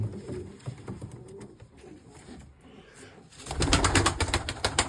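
Breeding pigeons coo softly in a loft, low throaty calls rising and falling nearby, with a louder burst of rustling and fluttering toward the end.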